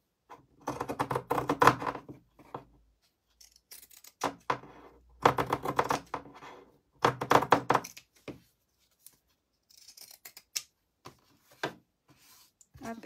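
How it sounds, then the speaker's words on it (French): Irregular bursts of crisp scissor snipping, close up, notching the curved seam allowances of fabric, in short clusters separated by brief pauses. "de cranter avec ma paire de ciseaux"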